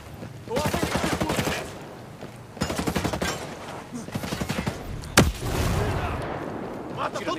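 Rapid bursts of automatic gunfire rattle through a sniper shooter video game, several volleys separated by short gaps with one sharp loud crack, mixed with shouting voices.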